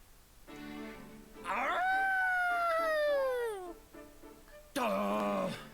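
A character in the video game Three Hopes imitates a wolf howl with a voice, giving a long, loud wavering howl that rises and falls, then a second shorter howl after a brief pause.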